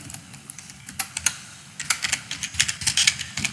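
Someone types a terminal command on a computer keyboard: quick, uneven clusters of close, crisp key clicks with short gaps between bursts, alone and without talk.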